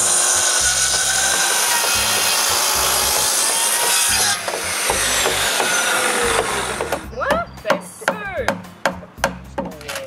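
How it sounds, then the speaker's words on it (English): Sawing through wooden rafters to cut end tenons for shop roof trusses, a steady rasping saw noise for about four seconds, then a series of separate loud cutting strokes with gaps between them. "Then I make a series of cuts to make the end tenon."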